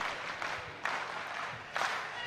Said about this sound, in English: may we give our national chairman and the president a better round of applause.